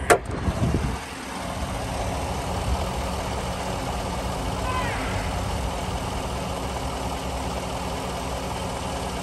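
A 2018 Chevrolet Silverado 1500 LTZ 4WD engine idles steadily and close by after a brief louder burst at the start, a continuous low rumble with no one talking.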